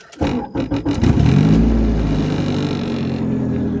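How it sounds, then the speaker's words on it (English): A turbocharged Honda Integra cranks with a few quick starter bursts, then fires and settles into a loud, steady rumbling idle close by. "Start the car."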